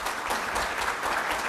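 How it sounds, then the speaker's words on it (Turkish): Audience applause fills a hall at a Turkish renewable energy and wind sector conference, a dense steady clapping that holds evenly and loudly throughout without letting up. "kuvvetli bir alkış bütün konuşmacılarımız için lütfen"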